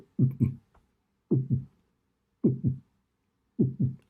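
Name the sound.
heartbeat sound effect in a video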